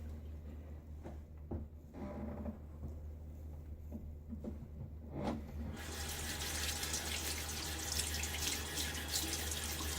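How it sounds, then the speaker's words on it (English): Cold tap water runs onto the side of a shaving soap jar, a steady close splashing that starts quietly with a few drips and swells into a louder full rush partway through, with no talking. "I'm going to rinse off the side of the can,"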